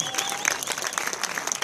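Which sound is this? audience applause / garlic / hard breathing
audience applause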